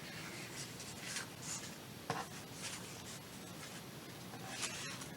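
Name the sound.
paper pages being handled and sorted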